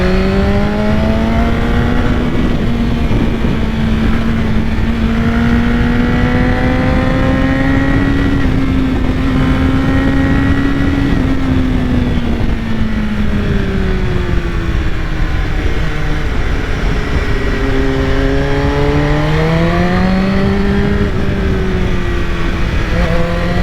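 A BMW S1000RR motorcycle being ridden, its engine droning loud and close with pitch that rises and falls smoothly through the throttle, steady throughout with no talk.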